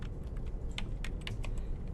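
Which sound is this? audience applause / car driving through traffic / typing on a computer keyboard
typing on a computer keyboard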